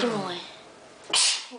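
A young girl sneezes once, sharply and close by, after her mother's voice, during a loose-tooth pulling at a home sink.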